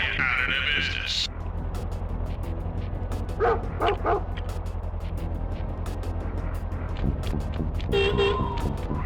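Machine-gun-toting guard dogs in the Sly Cooper video game barking in a burst of short yips over a steady game music and ambient drone, with brief tonal effects and some voice in the mix.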